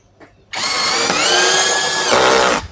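An Ecosen cordless drill runs in one sustained burst for about two seconds, a steady high whine that shifts pitch near the end as it drives a screw, close and loud with no talking.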